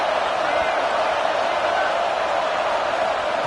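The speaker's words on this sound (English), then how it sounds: "This dog crowd is off the leash, and they are coming after them, bringing noise on 3rd down." Stadium crowd at a college football game roaring loudly on third down, a dense, continuous wall of cheering noise with no pauses.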